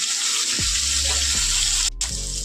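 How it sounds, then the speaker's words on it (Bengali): A hilsa fish head fries in oil, a steady close sizzle under low rumbling thuds as it shifts in the pan, with a brief cut near the end. "এক পিঠ উল্টিয়ে ভালো করে একটু কড়া করে মাছের মাথাটাকে ভেজে নিতে হবে"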